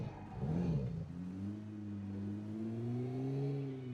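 A car engine in PUBG Mobile hums at a steady idle, its low tones rising and falling gently as the vehicle gets under way, moderately loud and continuous for the whole stretch.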